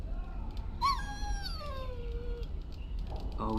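A dog whimpers and whines in Dragon Age: Origins, a short high yelp followed by a long falling whine, heard close over a low steady background hum.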